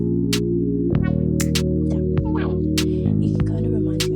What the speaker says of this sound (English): next element was the flutter wave.